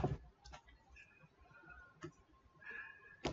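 Typing on a computer keyboard, with sparse, quiet key clicks in small irregular bursts close by and no talking.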